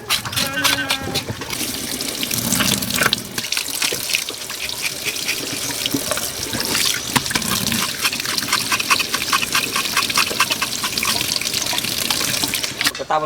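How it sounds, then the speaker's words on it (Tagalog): Running tap water splashing steadily into a sink while food is rinsed for a burnt sour soup, a continuous close hiss and trickle with light knocks and clatter. "Hugasan pa natin yan."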